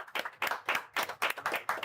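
A small audience claps in a quick, irregular patter of handclaps, close and fairly loud, without speech.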